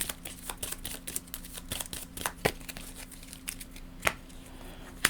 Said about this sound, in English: Let's shuffle up the AI deck.